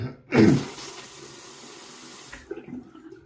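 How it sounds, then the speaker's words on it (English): Tap water gushes into a sink to wet a Gillette Black Tip safety razor before shaving, a loud close rush at first that settles into a softer steady flow, ending with small splashes. "And let's see, I'll wet the razor."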